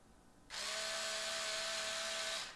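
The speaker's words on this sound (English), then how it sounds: "And then you're just driving screws" A Hawkforce 3.6v cordless screwdriver drives a screw, its small motor kicking in with a steady high whir for about two seconds before winding down, close and alone.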